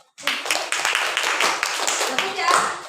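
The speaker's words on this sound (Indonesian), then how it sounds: "Beri tepuk tangan dulu." Classroom clapping after a student presentation, a burst of many hands applauding close by for a few seconds, fairly loud and uneven, starting abruptly and fading slightly near the end.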